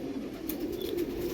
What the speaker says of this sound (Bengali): আজকে আরেক জোড়া কালো পায়রা শখ করাচ্ছি